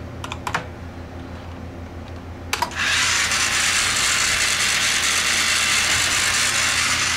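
A robot motor driven by a custom control circuit spins up to full power after a few clicks and rattles. It then holds a loud, steady whirring buzz at close range with no voices.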